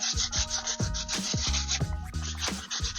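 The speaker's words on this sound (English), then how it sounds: "So just finish sanding this up" Rhythmic back-and-forth strokes sanding a painted headlight bezel, close and fairly loud, a gritty rasping that repeats steadily with no talking.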